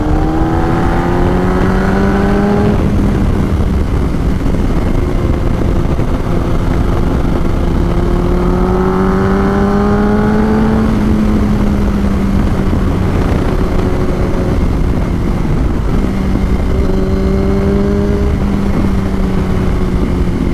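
A 2006 Yamaha R1 sport motorcycle cruising, its engine droning loud and close throughout, the pitch rising through each gear and dropping at every shift in a repeating pattern, with no voices.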